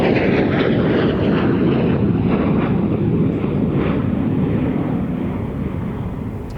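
A Dutch F-16 fighter jet roars past at an airshow display, a loud, broad rushing engine thunder that fills the whole stretch and slowly fades at the end.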